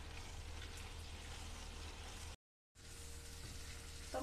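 Spice masala for okra (bhindi) masala frying steadily in a pan, a dense continuous sizzle that runs loud and close, breaks off for a moment of silence, then resumes with a brief clatter near the end.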